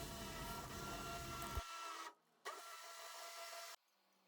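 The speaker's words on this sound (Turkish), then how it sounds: "Sebzeleri yumuşamış blenderla pürüzsüz olduğuna kadar çekiyorum." An electric blender whirs as it purees softened cooked vegetables for a soup. The motor drones loud and close, cuts out abruptly, runs again briefly, then stops, leaving near silence.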